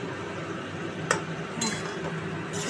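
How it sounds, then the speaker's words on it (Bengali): A lid lifted off a cooking pot of boiling potato and pointed gourd gives a brief metallic clink over a steady background simmer, with a couple more faint taps after. "5-6 মিনিট পর ঢাকাটা খুলে দেখছি"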